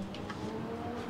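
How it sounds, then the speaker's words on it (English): A motorcycle engine hums briefly as bikes roll into a busy evening biker hangout in Vilnius, a faint, short engine note at moderate distance. "huge amount of bikers all coming along, constantly coming and going"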